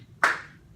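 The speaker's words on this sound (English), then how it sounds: "every time I clap, she claps" A single sharp hand clap rings out once, close and crisp, with a short decay over a faint background hum, during a lesson demonstrating the heart's SA node rhythm.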